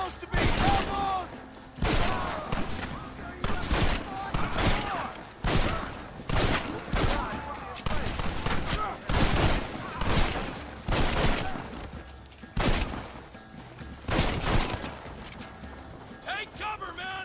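Rapid bursts of gunfire in the Western game Red Dead Redemption, sharp repeated volleys mixed with horse hooves, loud and close, with shouted voices in between.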